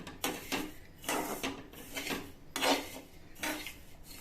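Rava being roasted and stirred in a hot pan for rava laddu, a spoon scraping and clinking against the metal in an irregular rhythm of short strokes, close and fairly quiet.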